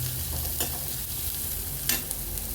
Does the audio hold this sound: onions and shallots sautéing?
yes